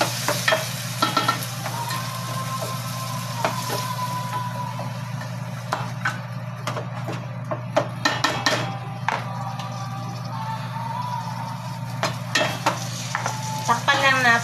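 Onion and tomato sauté in a pan as the base for a sardine soup. A steady, quiet sizzle runs under frequent scraping and clinking of a spoon against the pan.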